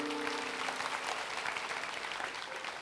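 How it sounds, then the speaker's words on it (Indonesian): Congregation in a church applauding together, a steady dense wash of clapping that fills the space evenly for the whole stretch, with a faint sustained tone underneath early on. "beri tepuk tangan untuk Tuhan"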